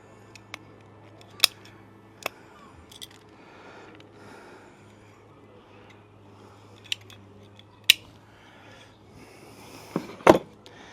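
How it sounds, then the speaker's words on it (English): Scissors snip away high roots on a blackthorn bonsai, giving a few sharp, separate clicks spaced out over quiet, close-up handling noise, with a louder cluster of snips near the end. "There's a few wee high up roots that I want to get rid of up here, so I want to snip them away."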